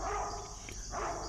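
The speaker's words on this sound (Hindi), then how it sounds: "साहबों के गले के साथ एक अजनबी कुत्ते की आवाज सुन रहा हूं।" An unfamiliar dog near a rest house at night gives two barks about a second apart, at middle distance over a steady low background hum.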